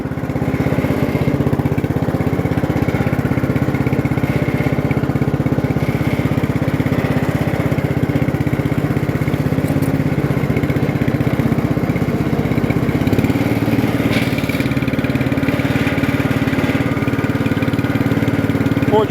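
A Bolens 13.5hp lawn tractor with a 38-inch deck runs steadily while being driven, its engine droning loud and close with a constant mid-pitched hum and a slight shift in tone partway through.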